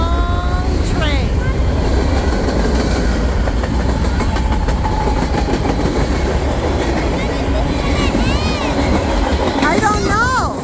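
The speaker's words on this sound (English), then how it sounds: "That is a long train." A long freight train with oil tanker cars rolls steadily past on the rails, a loud continuous rumble with rhythmic clickety-clack and squealing wheels, nearby and unbroken.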